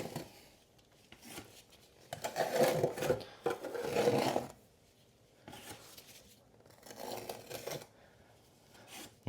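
A margin trowel scrapes and wipes excess tile adhesive in several separate rough, rasping strokes, fairly close and moderately quiet, with no talking.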